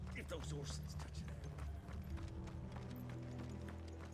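Horses' hooves clip-clop in the Final Fantasy XVI video game, a quiet patter of hoofbeats under game music and character voices.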